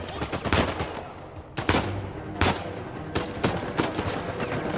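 Gunfire in Uncharted 4: A Thief's End on PS4: sharp, loud shots in short bursts spaced irregularly over a low rumbling background, with one faint voice at most.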